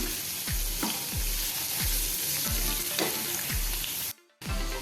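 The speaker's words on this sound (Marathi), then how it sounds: "आपण एक मोठा कांदा बारीक चिरून घेतला आहे तो थोडा परतून घेऊया" Finely chopped large onion sautés in hot oil with whole spices for a spicy dhaba-style chicken keema, a constant sizzle broken by regular low thumps of stirring and a brief dropout near the end.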